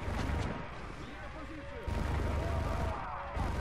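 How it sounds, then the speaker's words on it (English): Sustained weapon fire from a sentry gun in Modern Warfare 3 Resistance Survival, continuous heavy shooting and blasts filling the scene at close range, with a voice talking over the din. "Come on, sentry gun, hold them off."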